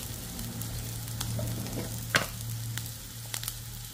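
Mixed vegetables for seviyan fry in a pan with a soft, steady sizzle and crackle, punctuated by a few sharp stirring clicks and scrapes, with a low hum underneath.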